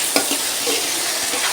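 Onions and tomatoes frying in a pan for simple chicken sukka, a steady close sizzle with a few sharp stirring scrapes and no voices.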